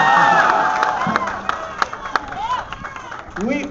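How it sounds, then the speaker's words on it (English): A crowd at a Rick Santorum campaign rally in Florida claps and cheers loudly, with scattered shouts rising and falling over the applause. "you can applaud any time when I say Florida"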